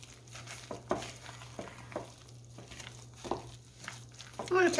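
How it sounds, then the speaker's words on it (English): A wooden spoon stirs pineapple dump cake batter in a bowl with soft, repeated scraping and thudding strokes at a steady rhythm, fairly close, while a person talks over it. "use a wooden spoon to mix this up"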